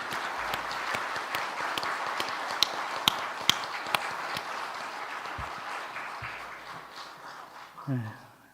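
A church congregation claps in thanks after two pastors come forward, the applause moderate and diffuse with a few sharp near claps standing out, then fading as a voice and shuffling sounds follow.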